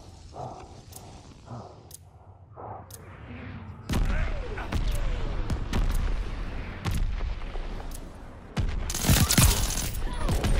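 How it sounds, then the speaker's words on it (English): Friendly mortar fire in a video game: several sharp booming impacts and bursts, with a heavy blast cluster near the end, over background game noise and occasional players talking. "Friendly mortar fire oh, coming."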